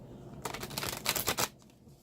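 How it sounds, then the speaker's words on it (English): Close, crisp riffling of a tarot deck being shuffled, a dense run of papery flicks and snaps lasting about a second before stopping, with no talking. "I'm going to just give it a couple more shuffles"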